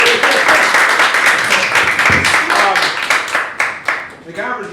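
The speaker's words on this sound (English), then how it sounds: "you should give yourselves a round of applause" An improv theatre audience claps and cheers in a lively burst of applause that thins out toward the end, with voices mixed into the crowd noise.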